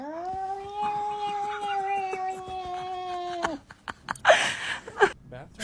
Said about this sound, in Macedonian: Што испушти мачката?